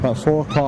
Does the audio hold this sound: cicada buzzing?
no